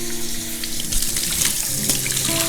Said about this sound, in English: So I'm just giving them a couple more rinses.